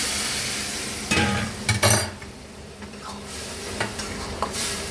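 Mashed lentil dal hits a sizzling garlic-onion tempering, bursting into a loud hiss and crackle with a couple of surging splashes, then settling into quieter bubbling and occasional stirring.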